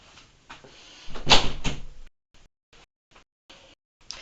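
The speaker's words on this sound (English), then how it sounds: "I'm gonna shut my door." A cracked-open room door is pushed shut, giving a loud knock-like thump near the middle after some shuffling, followed by a few faint, brief clicks and taps in an otherwise quiet room.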